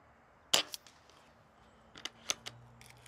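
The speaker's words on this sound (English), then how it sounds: "So let's go ahead and shoot on this right corner now." One sharp close air gun shot at a target, followed by fainter clicks and small impacts as the rifle is handled, with a low hum beneath throughout.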